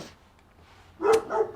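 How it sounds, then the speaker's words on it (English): A dog indoors gives a couple of short, sharp barks close by after a quiet stretch, with no talk over them. "I'm going to go and stop my dog barking"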